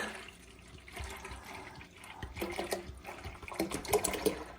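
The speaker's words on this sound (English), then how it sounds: "to the water citric acid mix, we're going to add our 1 gallon of whole milk" A gallon of whole milk is poured into a water and citric acid mix, giving an uneven glugging, splashing pour that grows louder and more bubbly toward the end, with no speech.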